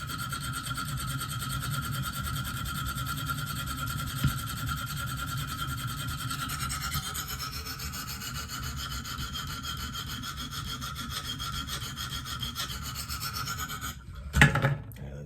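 A Benchmade Steep Country knife blade is stroked steadily on a KME sharpener, a continuous close, raspy rubbing with a brief louder scrape near the end.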